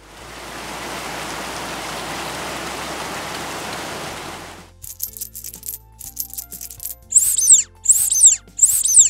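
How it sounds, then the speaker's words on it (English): Heavy rain pours steadily for several seconds, then stops. Coins clink in a few short, bright bursts, followed by three squeaky squeezes of a rubber toy. "I played the sounds of rain pouring, coins clinking, and a rubber toy being squeezed."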